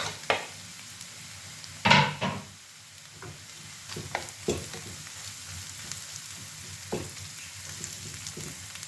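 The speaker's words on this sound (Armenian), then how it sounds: "Ավելացնում եմ մեկ սխտորի կճեր" A garlic clove sizzles softly in a hot pan while a utensil stirs it, with a few sharp scrapes and clinks against the pan over a steady low frying hiss.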